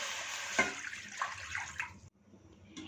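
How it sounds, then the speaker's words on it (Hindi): Three cups of water are poured into a pan, a close, splashing stream that runs for about two seconds, stops abruptly, then gives a faint trickle. "इसमें 3 कप पानी डाल देंगे।"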